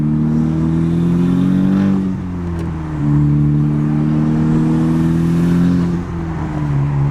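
A 2018 Honda Civic Si 1.5T fitted with a Cobra intake revs steadily, its engine tone rising and falling in two clear pulls, loud and close with no talk over it.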